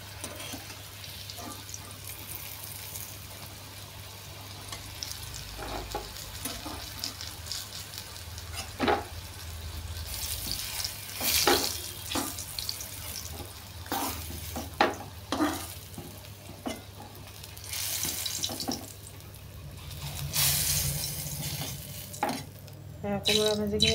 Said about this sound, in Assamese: কোমোৰা ভাজিখিনি এতিয়া নমাই ল'ম।